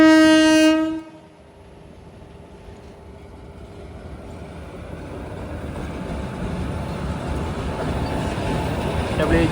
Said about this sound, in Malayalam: ഒരു ഗുഡ്സ് ട്രെയിൻ വരുന്നത് കാണാം.